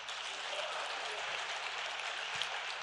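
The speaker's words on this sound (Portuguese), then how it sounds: "Uma salva de palmas para os irmãos aí, por favor." A church congregation at a couples' worship service claps together, a steady, moderately faint wash of applause lasting a few seconds with no talk over it.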